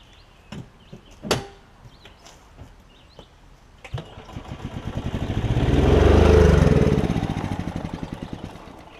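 A Yamaha golf cart engine with a fuel delivery fault, dosed with starter fluid, follows a few scattered clunks and a lid closing with a rapid rhythmic starter cranking that swells louder and then fades, close by and without catching.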